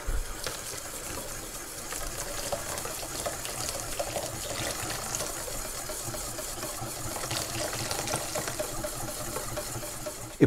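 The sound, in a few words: pouring rum into crêpe batter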